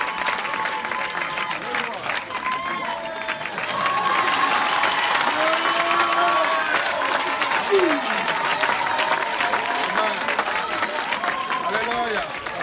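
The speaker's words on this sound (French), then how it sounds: "Acclamez le Seigneur." A church congregation applauds and cheers steadily and loudly, the clapping swelling partway through and carrying on with voices and shouts over it.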